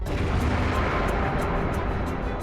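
Explosion sound effect rendered as a steady, dense rumbling roar that fills the whole stretch at moderate loudness, with faint periodic crackles on top and no voices.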